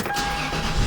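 A car engine restarting on an ignition interlock system: a steady close mechanical drone with a faint tonal whine, swelling slightly louder toward the end.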